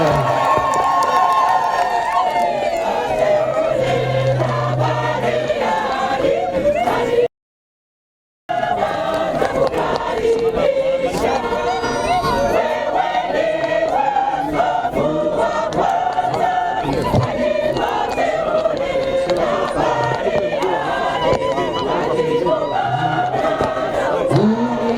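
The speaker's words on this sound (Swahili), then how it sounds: "Makofi na vigelegele." A large crowd cheers, shouts and ululates continuously outdoors as a motorcade carrying a Catholic bishop passes, with a brief dropout partway and voices mixed throughout.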